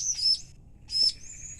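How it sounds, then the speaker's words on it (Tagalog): Two short bursts of high chirping from young caught birds kept outdoors, close and clear with a brief pause between calls. "ito na yung yung nahuli nating ibon."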